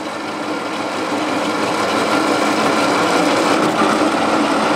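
A worn saw blade with missing teeth cuts steel during lift work, making a continuous, loud grinding whir with a faint rhythmic ripple and no speech.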